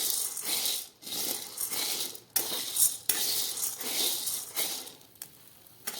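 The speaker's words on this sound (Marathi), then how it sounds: "आपण मंद गॅसवर हे साबुदाणे भाजत आहोत।" Sabudana roasts in a pan on low gas while being stirred, giving a repeated dry rattling and scraping in uneven strokes, close and moderately loud.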